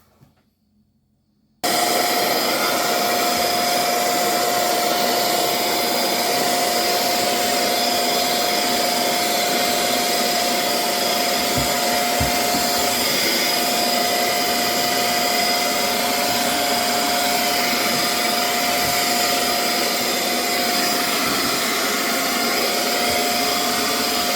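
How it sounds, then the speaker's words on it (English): A vacuum cleaner switches on and runs steadily and loudly while cleaning out a kitchen cabinet, a constant close whining drone with a clear tonal hum and faint bumps of the nozzle. "So I have got it all vacuumed"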